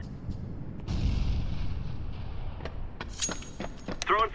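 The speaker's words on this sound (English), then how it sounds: "Grenade out!" A grenade goes off in Counter-Strike with a muffled low thud and rumble early on, followed by scattered sharp gunshots and clicks of gameplay, moderately quiet overall.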